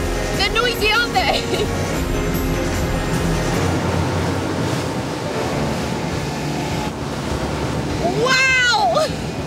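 A loud, steady roar of a lifeboat's two engines and propellers churning water fills the whole clip, with voices heard briefly near the start and again near the end.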